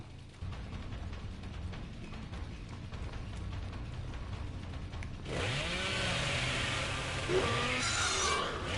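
A chainsaw revs in the video game Dead by Daylight as a low mechanical drone that rises and brightens into a louder, harsher whine partway through, with no talking.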